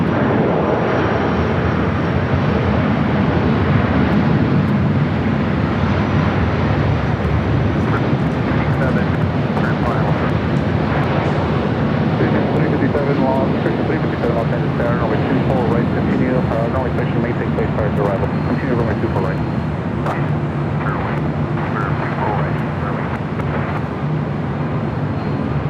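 A Delta Boeing 767-400ER airliner at LAX airport, a steady broad jet engine roar that holds loud and constant throughout, with a person talking over it at times.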